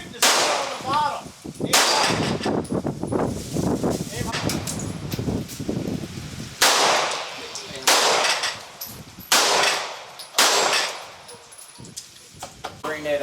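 Pistol shots at an outdoor shooting range pistol bay in Tennessee, a series of sharp loud cracks spaced a second or two apart, with people talking between and under the shots.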